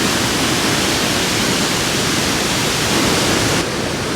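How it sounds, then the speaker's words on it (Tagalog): The Delaware & Raritan Canal waterfall in Lambertville, New Jersey, pours as a dense, constant roar of rushing water, loud and close, with no breaks. "It's a mini Niagara Falls."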